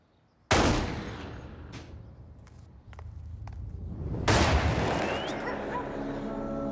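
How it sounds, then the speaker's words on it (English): Two loud, sharp bangs a few seconds apart with broadband crack, followed by a lingering noisy rumble and a faint high whine. "he hears 2 gunshots, and he said there's about a 4-second delay, and then the 3rd shot"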